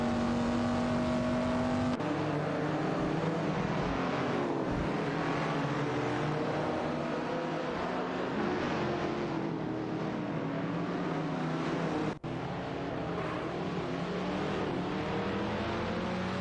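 Engines of video-game racing cars, including a Chevrolet Corvair and an Alpine A110 1800S, drone in a continuous loud mix of revving and gear changes during a race, with no voices.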